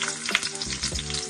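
Small shallots frying in a spoonful of hot ghee, a close, continuous crackling sizzle at a quiet level, with no voices over it.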